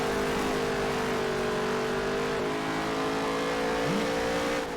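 A race truck engine in Nascar Heat 3 holds a high, steady roar, and its pitch wavers slightly as the truck runs at speed. The engine is loud and continuous throughout, with no speech.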